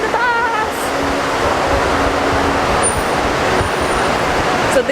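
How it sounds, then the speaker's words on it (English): Pink public buses and road traffic in Bermuda fill the scene with a loud, constant roadway roar, with a brief horn-like tone early on and engine noise that stays close and continuous. "So these are the buses."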